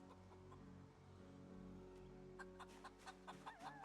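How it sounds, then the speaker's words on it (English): Chickens cluck in Project Zomboid's farm setting, a series of short, close clucks surfacing in the second half over a steady droning game ambience, with no talk. "Let me check on the chicken."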